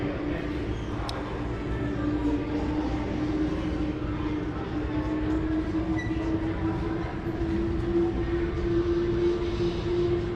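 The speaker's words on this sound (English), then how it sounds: "I hear the train again." A train rumbles past near the Southern Park Mall in Boardman, Ohio, a steady, loud, droning roar with a sustained tonal hum that holds through the whole stretch, with faint voices underneath.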